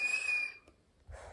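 A person whistles indoors at home, holding one steady, fairly loud note for about half a second. A short pause follows, then soft breathy noise.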